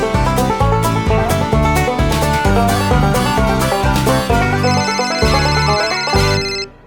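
A phone ringtone for an incoming call plays loudly as a bright, repeating melodic tune for several seconds, then cuts off abruptly at the end, with no talk.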